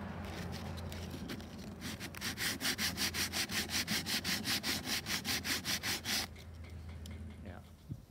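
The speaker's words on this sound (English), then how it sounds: "This isn't quite wide enough, so I have to file sideways a little." Sandpaper wrapped around a stick files a wooden workpiece in steady back-and-forth rasping strokes, close and loud, about a dozen rhythmic scrapes before stopping, with some background talk around them.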